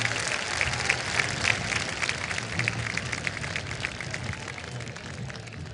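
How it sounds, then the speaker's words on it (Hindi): Large crowd at the World Culture Festival applauding to welcome the home minister, a dense, continuous roar of clapping heard from a distance and slowly fading. "मैं चाहूंगी जोरदार तालियों से हम सब उनका स्वागत करें,"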